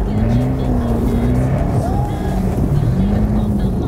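A Jaguar Land Rover car at a driving fun zone, skidding at full throttle, makes a loud, close engine roar with wavering revs and possible tyre scrub throughout.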